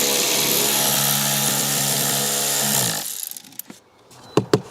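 A power tool drives 8mm screws back into the cabin filter box of a BMW 130i: a steady, loud motor whine runs for about three seconds and stops, followed by a few sharp clicks and knocks.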